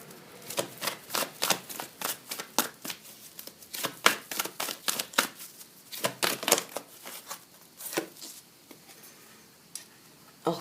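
Tarot cards are shuffled by hand in a rapid run of crisp riffling snaps and flutters, close and fairly loud, in brief irregular bursts with short pauses and no talking.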